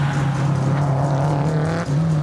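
A Subaru WRX Impreza race car climbs a hillclimb course at Legend of the Lakes in Australia, its engine holding a loud, steady droning note with a brief dip near the end, alone without talk.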